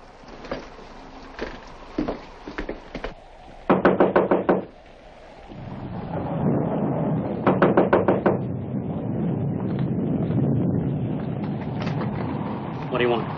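Knocking on a front door in a 1946 film noir, heard as several sharp knocks in separate bursts over low background hum and room tone, the later knocks louder and more rapid.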